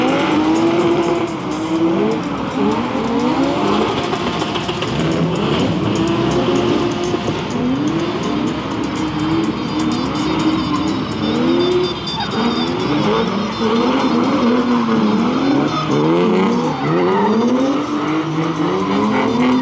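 Drift car at a street drift competition at Biķernieki, engine revving hard through a long continuous run with rising and falling pitch sweeps and tire squeal, loud and close throughout.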